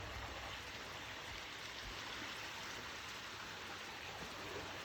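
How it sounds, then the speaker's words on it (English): Constant rushing water with a steady hiss and no pauses, like a stream flowing nearby, fairly soft and with no voices. "So there must be something that makes the water speed up."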